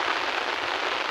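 Heavy rain pours steadily in hilly country, a dense, even hiss of drops striking surfaces nearby, continuous throughout with no one speaking.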